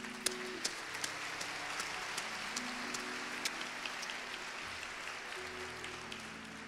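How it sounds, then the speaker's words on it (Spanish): Audience applause at a tribute concert, a broad wash of clapping heard from a distance and fairly faint, with a low sustained tone from the stage underneath and a few sharper claps standing out. "El aplauso para todas y todos quienes pasaron recién por acá."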